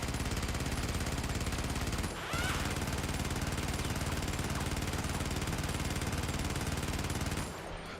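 A defensive turret in the Helldivers game fires rapid continuous bursts, loud and close, with a brief pause partway through before the hammering resumes.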